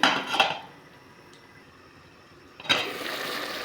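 A lid goes onto a pot of chicken adobo with lemongrass and vinegar, a close metallic clatter at the start, quiet simmering in between, and another rattling clank of metal on metal near the end.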